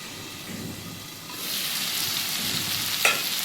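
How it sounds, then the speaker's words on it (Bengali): Radish and tomato frying in a pan for a moong dal dish, a soft sizzle that swells into a louder, fuller hiss and crackle, with a brief clink near the end. "আমার মুলোটা ভাজা হয়ে গেছে টমেটোটা গলে গেছে"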